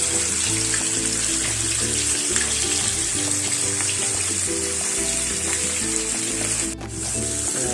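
Homemade fermented fish sizzling in hot oil, a loud, dense, continuous hiss and crackle that fills the whole stretch with a steady roar and no talking over it.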